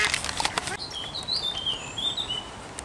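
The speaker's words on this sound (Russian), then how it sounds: "Как птички поют." Small birds sing in a park, with several thin, high chirps and short trilling phrases scattered over soft background noise, fairly faint and at a moderate distance.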